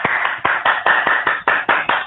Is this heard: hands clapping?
yes